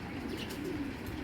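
A strong Iraqi-line racing pigeon gives a soft, low coo, a brief murmuring phrase amid a constant hum of flock noise.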